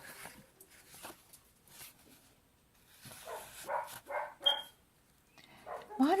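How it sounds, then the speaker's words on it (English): Several dogs bark in short, scattered bursts, growing louder toward the end, with a brief yip near the close, heard indoors during a craft session on a fabric journal. "Why do the dogs always bark when you video?"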